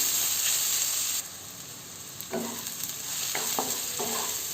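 Steady sizzling of garlic frying in a pan, with a few scraping stirs partway through, close up and moderately loud.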